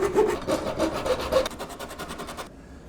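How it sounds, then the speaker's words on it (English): A small hacksaw cuts through a bike part with several rasping back-and-forth strokes, close and clear, then a few quieter strokes before it stops abruptly. "I'm gonna cut mine right off with this little bit of a hacksaw here real quick"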